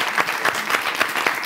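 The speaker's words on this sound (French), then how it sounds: "un tonnerre d'applaudissements pour Fouga Boy" A live audience at the grand final of a television presenter contest claps loudly for Fouga Boy, a dense wash of applause with strong, regular rhythmic pulses of unison clapping.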